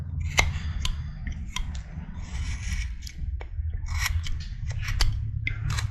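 A carving knife slicing wood while a face is carved, heard as close, scratchy shaving strokes in short irregular bursts over a low rumbling background.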